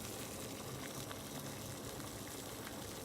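Water boils in a pot on a stove, giving a steady, dense bubbling hiss that holds at an even level throughout without any talking.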